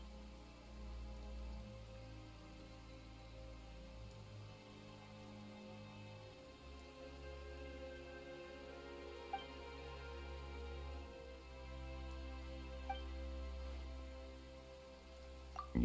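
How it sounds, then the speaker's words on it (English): Steady rainfall in Genshin Impact patters on surfaces under a low droning ambience, with a few faint clicks, continuous and even throughout. "Why is it raining all of a sudden?"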